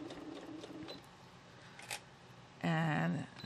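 A sewing machine stitches quilt squares in a short, loud mechanical whirring burst near the end, preceded by softer handling clicks and fabric rustles, close to the microphone.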